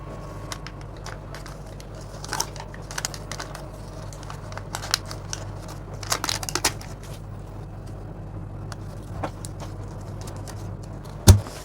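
Scissors cutting fabric for a layered sleeve, a quiet, close run of crisp snips and papery rustles coming in irregular clusters, with a sharper clack near the end.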